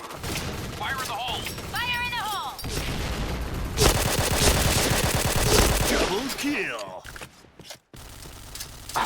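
Gunfire from a K2C EBR rifle in the shooter game Point Blank, with rapid bursts and clattering shots layered over game effects and a busy background, alongside someone talking throughout.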